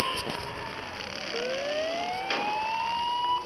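A police siren in Gangstar New Orleans wails with a rising tone, heard at moderate distance over faint game background noise.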